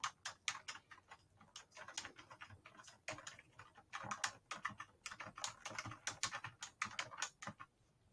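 Rapid computer keyboard typing in bursts of clicky keystrokes, close and fairly quiet, with brief pauses between runs and no voice.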